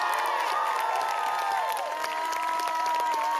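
Sustained crowd cheering and applause at a school closing convocation, with whoops and shouts rising over steady clapping, loud and filling the hall throughout.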